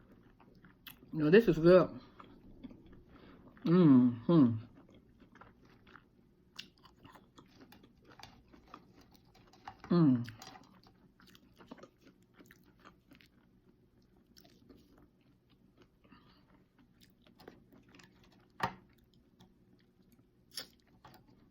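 Wet smacking and chewing of Church's fried chicken in short bursts close to the mic, with brief talk in between and quiet pauses.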